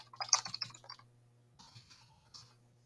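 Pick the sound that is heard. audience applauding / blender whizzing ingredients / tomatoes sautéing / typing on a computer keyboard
typing on a computer keyboard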